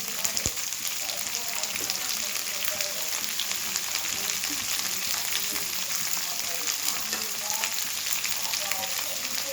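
Onions frying in a pan for spicy taro-leaf (kochu shak) stir-fry, a steady dense sizzle running unbroken throughout, close and fairly loud with no talk.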